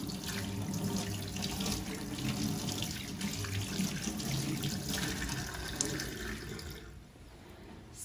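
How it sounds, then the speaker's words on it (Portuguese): Steady running water from a tap splashing into a sink as soapy hands are rinsed under it, a continuous close, even rush that fades slightly near the end. "Enxague as mãos, retirando os resíduos do sabonete, evitando o contato direto das mãos ensaboadas com a torneira."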